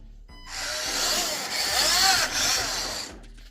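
Axial SCX24 RC crawler wheels spinning against a tabletop, a loud whirring motor-and-tire whine rising in pitch for about two and a half seconds before cutting off.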